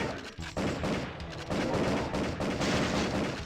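Rapid gunfire from the Area 51 shooting game on PlayStation 1, played with a Justifier light gun: dense, loud bursts of shots and blasts, nearly continuous, with a brief dip near the start.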